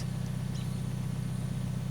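Toyota Tacoma 4G truck with a 4-cylinder engine and a high clearance tailpipe exhaust, idling with a steady, low, even drone and no talk.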